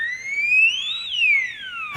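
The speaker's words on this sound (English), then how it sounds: "That is the sound of the Tickle monster." A comedy podcast's Tickle monster sound effect: a smooth whistle-like synthetic tone that slides upward, peaks, then glides back down over about two seconds, ending in a short noisy burst.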